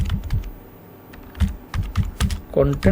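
Fingers typing on a computer keyboard in quick irregular bursts of close clicks, with a person talking over and between the keystrokes.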